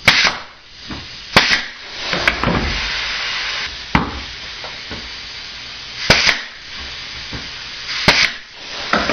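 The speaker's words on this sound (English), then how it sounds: "with your brad gun, you're going to pop a couple nails in the corners" Sharp pneumatic pops from a brad nail gun driving nails into wood corners of a wine cork board frame, several separate bursts with short hissing tails, irregularly spaced and close.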